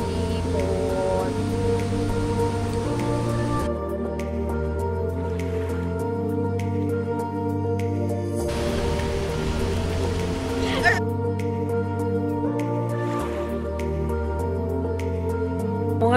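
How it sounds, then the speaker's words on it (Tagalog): Heavy rain falls on a tent campsite, a steady patter under layered music-like tones that shift in blocks, with no clear talk. "malakas ang ulan"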